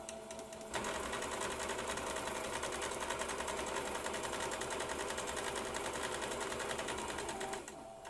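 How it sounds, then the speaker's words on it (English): A sewing machine stitches fabric for a face mask, its motor whirring in one fast, steady, continuous run that starts after a brief pause and stops just before the end, heard close and alone. "Okay, so we're going to just sew."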